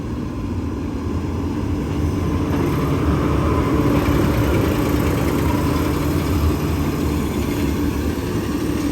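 A T8 packing tractor engine runs steadily throughout, a loud, continuous low-pitched drone with no pause and no talk.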